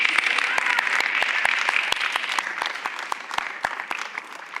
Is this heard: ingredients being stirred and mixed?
no